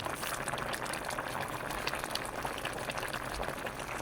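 Humba, a stew of pork hock, boils hard in a pot, giving a steady close bubbling and sputtering that carries on without a break.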